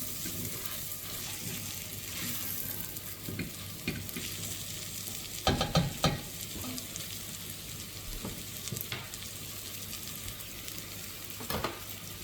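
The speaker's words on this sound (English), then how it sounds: "Now we're going to really give this a good stir and start to get all that goodness off the bottom of the pan." Caramelising onions for beef bourguignon are stirred and scraped in a pan, a steady close sizzle with a few sharper clatters of the spoon against the pan around the middle and near the end.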